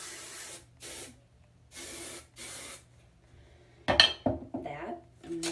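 A can of hairspray releases four separate hissing bursts, each about half a second, in a quiet room, followed by clattering and handling noises as it is put down.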